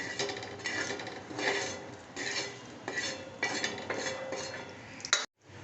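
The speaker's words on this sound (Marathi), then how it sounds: "हा भाजलेला मसाला आपण आता काढून घेतोय" A metal spoon scrapes and clinks against a flat griddle pan in rhythmic strokes, removing dry-roasted spices for mutton curry, close by, ending with a sharp knock.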